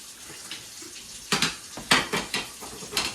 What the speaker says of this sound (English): get rid of that fat by taking this over here, dumping it right in the strainer